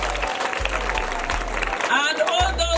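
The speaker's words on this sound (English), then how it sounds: "Can we appreciate them with a clap?" Students and audience at a girls' high school cultural day clap together in a dense, steady wash, with cheering voices and a low thumping beat running beneath the applause throughout.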